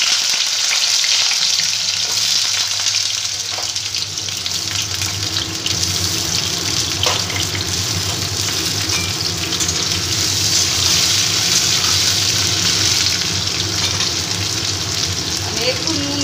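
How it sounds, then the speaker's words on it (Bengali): Cut bitter gourd pieces frying in hot mustard oil, a steady close sizzle and crackle that runs without a break, with a faint stir or clink now and then. "এবার আমি ওই কেটে রাখা কাঁকরোলগুলোকে একটু ভেজে নেব"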